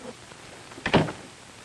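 An office door in an old film drama opens and shuts with a single soft thunk, quiet and close against faint room hiss.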